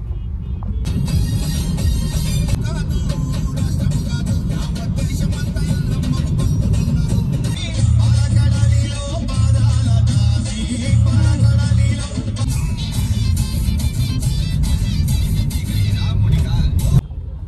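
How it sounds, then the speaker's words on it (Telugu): Heavy, slow-moving road traffic near Balkampet in Hyderabad gives a constant close rumble of engines and vehicles with occasional revving, while a person talks over it. "ఫుల్ ట్రాఫిక్ ఉంది ఇక్కడ."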